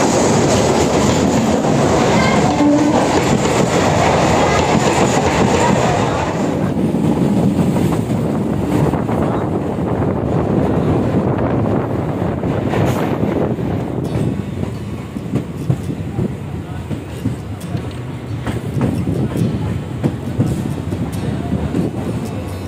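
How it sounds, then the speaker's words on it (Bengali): A Namkhana local train arrives from Sealdah at a station and rumbles loudly and close with a steady roar of wheels and carriages. Rhythmic rail clatter continues throughout as the train slows. "আর কিছুক্ষণ পর আমাদের নামখানার উদ্দেশ্যে ট্রেন আসবে"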